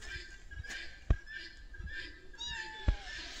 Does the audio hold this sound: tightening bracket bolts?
no